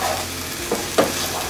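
Chopped onion and rice fry together in a pan while cooking caltabos, a steady soft sizzle broken by two short scraping stirs.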